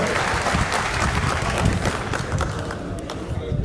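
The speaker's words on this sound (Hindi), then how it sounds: "जोरदार ताली से, ताली की आवाज कम है, जोरदार ताली से स्वागत" Loud, steady applause from a crowd at an Aam Aadmi Party political gathering in Rajasthan, welcoming a speaker, with dense clapping sustained throughout at close range.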